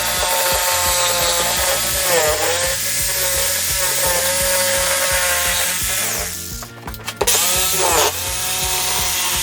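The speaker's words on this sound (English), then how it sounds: "so I can get my jigsaw in there and cut the center" A jigsaw cuts through wood in a loud, steady rhythmic chatter, briefly pausing and bogging down midway before resuming at full speed.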